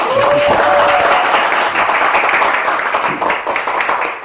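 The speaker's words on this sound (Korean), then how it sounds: "자축하는 의미로 우리 셀프 박수 한번 쳐볼까요?" A seated audience at a talk event claps for themselves in self-congratulation, a dense, steady wash of many hands that stays loud for the whole stretch, with no voices on top.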